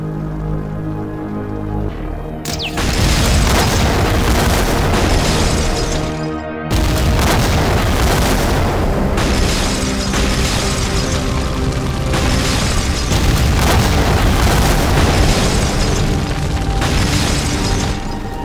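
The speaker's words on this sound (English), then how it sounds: "The primary explosion results in even more powerful secondary explosions, devastating the area." Massive industrial explosions from an ignited leaking tanker lorry boom one after another, a deep roar building into repeated heavy blasts and rumbling that fill the space loudly and continuously.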